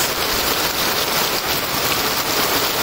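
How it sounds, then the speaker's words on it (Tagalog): Steady, dense rain pouring down, a loud continuous hiss of drops hitting surfaces with no voices or breaks. "Kaso umuulan, wala akong payong."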